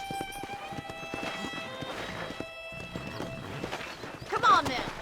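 Horse hooves clip-clopping in the Red Dead Redemption video game, a steady trotting rhythm under ongoing talk, with a short neigh near the end.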